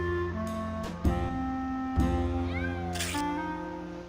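Several cats meow and yowl in Grim Fandango Remastered, with a few distinct calls over a steady background tone and occasional sharp game effects.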